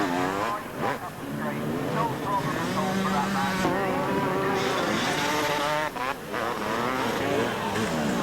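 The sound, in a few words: four-wheel cars racing on beach, Weston Beach Race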